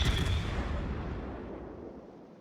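A single heavy naval gun blast from a battleship in World of Warships, a loud booming report that rolls off into a long fading rumble with no voices over it.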